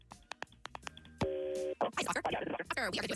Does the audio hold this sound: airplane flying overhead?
no